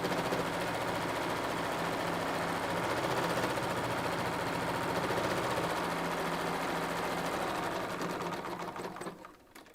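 An embroidery sewing machine stitches a tack-down line in a loud, fast, steady mechanical rattle right up close, keeping an even rhythm before winding down and stopping at the end. There is no talking.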